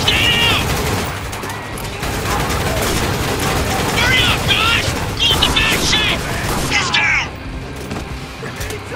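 A battle in the video game Spec Ops: The Line, with dense gunfire and bursts of automatic fire rattling continuously under heavy explosions, while soldiers' voices shout over the din.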